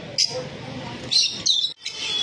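Lutino Fischer's lovebirds chirp in short, bright bursts, fairly close, with a steady low household murmur underneath.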